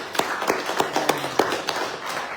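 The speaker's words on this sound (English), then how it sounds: "Let's give it a big hand of applause." A church fellowship service audience claps for several seconds after a sing-along song, a sparse scattering of hand claps, close and moderately loud, with no voices.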